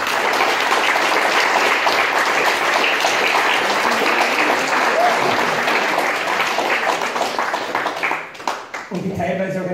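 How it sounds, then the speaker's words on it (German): An audience at a short film festival applauds loudly and continuously, a dense wash of clapping that tapers near the end as a voice begins speaking. "Großen Applaus für euch"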